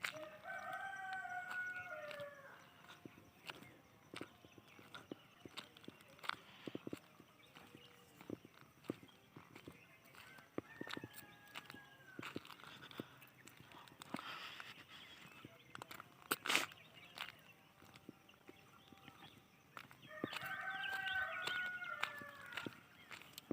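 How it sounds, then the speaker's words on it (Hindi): A large rooster crows twice at a distance, once at the start and again near the end, over faint clicking and rustling in a quiet outdoor setting. "हमारे यहाँ बहुत बड़ा मुर्गा है, वही रोते रहता है।"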